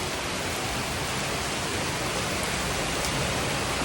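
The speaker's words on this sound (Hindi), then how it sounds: "इतनी ज़बरदस्त बारिश हो रही है" Heavy rain pours steadily over a mountain village, a dense, continuous hiss of falling water close by with no pauses or voices.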